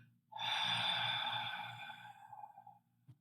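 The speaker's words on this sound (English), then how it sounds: "we're going to exhale through the mouth" A single long exhale through the mouth during a breathing exercise, a breathy airy rush heard close that fades out over about two seconds, followed by a small click.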